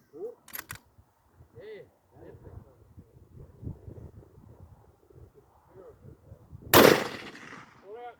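A single sharp rifle shot from a Ruger Precision 6.5 firing 140-grain Hornady ELD Match rounds at 400 yards cracks loudly near the end, in windy outdoor conditions, after quiet talk from people nearby.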